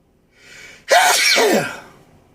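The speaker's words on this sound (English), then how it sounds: "Yes, that was a sneeze." A brief soft intake of breath, then one loud, sharp sneeze that trails off quickly, heard up close with no talking.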